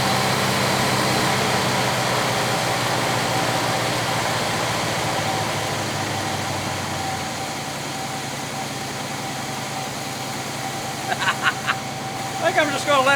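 An abandoned 1966 Chevy Biscayne big block, started for the first time since 2003, idles with a steady low rumble that settles slightly partway through, under a speaking voice, with a few light clicks near the end.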